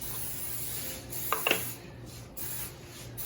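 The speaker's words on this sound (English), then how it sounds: "Lightly spray the pan, and then you have to lightly spray your work surface" A short hiss of cooking spray from a can onto a pan, two quick bursts over a steady background hum.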